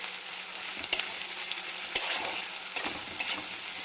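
Onions sizzle steadily in a pan with salt and sugar added, a constant crackling fry broken by a few sharp stirring clicks and scrapes, close up with no voices.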